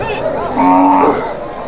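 Cattle at a country cattle market in Vaniyambadi, Tiruppattur district, with young calves and bull calves, give a loud, drawn-out moo in the middle, set against crowd chatter and background noise.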